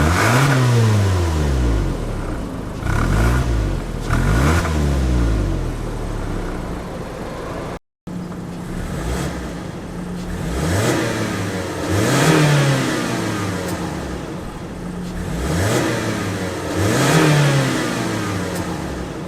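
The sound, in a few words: Mazda2 P5-VPS engine revving, heard inside the car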